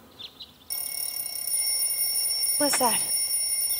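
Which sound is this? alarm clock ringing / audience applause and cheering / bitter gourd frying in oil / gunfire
alarm clock ringing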